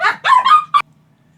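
A dog barks in a short close burst of two or three yips followed by a sharper final bark, then quiet.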